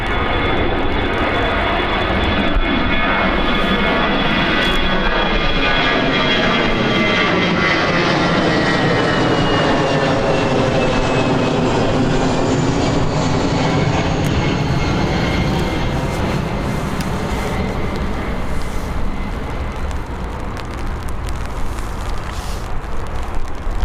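An EasyJet airliner at Birmingham airport roars steadily, with a loud broadband jet engine rush and a slowly shifting whine that carries throughout and fades slightly at the end.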